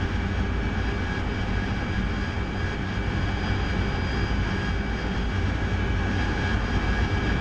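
A Harrier jet engine roars continuously in a flight simulator game, a steady, loud, unbroken drone with no talk over it.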